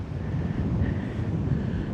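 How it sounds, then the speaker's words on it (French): Steady wind buffeting a microphone at the seaside on the Giens peninsula, with waves stirred up nearby; a continuous rushing, rumbling noise at even loudness throughout, no voices. "Vu comme vous voyez les vagues, il y a du vent"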